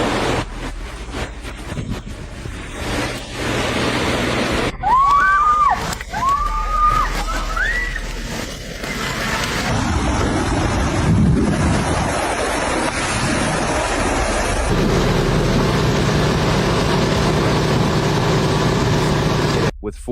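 Flood water in Khanh Hoa, Vietnam rushes and sloshes in a loud, steady roar, with a few high whistle-like tones early on and a motor droning beneath the churning water.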